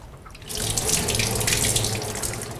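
Squid being cleaned is rinsed in a little water and shaken, giving a steady splashing, sloshing rush that starts after a short pause and continues close up.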